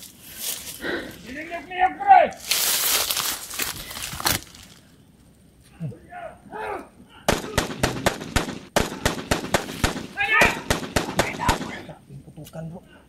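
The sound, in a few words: gunfire, shots being fired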